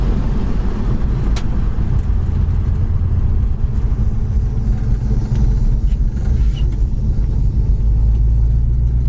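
A 1971 Plymouth Duster cruises at 75 mph around 3,200 rpm, a loud, steady engine drone and road rumble heard from inside the car with no change in pace.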